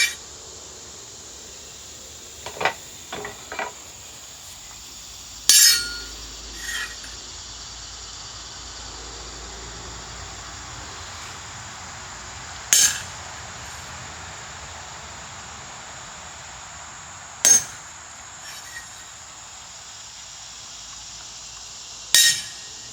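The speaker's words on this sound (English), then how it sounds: "so now I need to punch all of those, not that one" Hammer strikes on a metal punch, driving marks into a coat rack workpiece: a handful of sharp, ringing metallic blows spaced several seconds apart, with a couple of lighter taps early on, over a steady background hiss.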